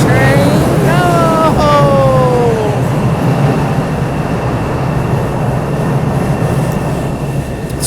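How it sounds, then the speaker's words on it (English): A new passenger train sounds a series of electronic beeps, stepped tones in the first few seconds that fade out, over steady loud rail rumble and cabin noise. "It's one of those new trains that beep too much."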